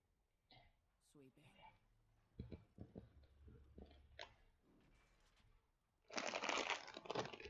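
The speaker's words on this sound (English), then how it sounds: "Loud rustling bag." A snack bag rustles and crinkles loudly near the end, a dense burst of crackling plastic after quieter bumps and handling sounds, with a person talking earlier.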